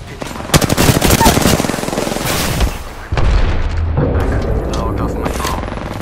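Heavy automatic gunfire in a video game, dense machine-gun bursts and booms loud and close for several seconds, easing off and then continuing under game voice lines.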